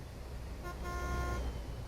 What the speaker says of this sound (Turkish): Arkamdaki araç, araçlar kornaya basacak.